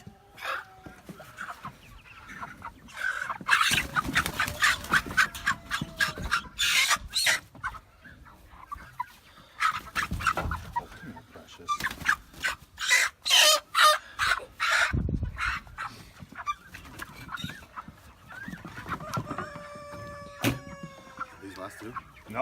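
A flock of chickens clucking busily nearby while a rooster crows toward the end, with people talking intermittently over the birds.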